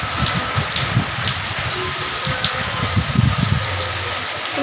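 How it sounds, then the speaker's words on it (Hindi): Heavy monsoon rain pouring down steadily, a dense hissing wash with splashing water close by and no talk. "अब इतनी बारिश हो रही कि बिल्कुल कपड़े ही नहीं सूख पा रहे"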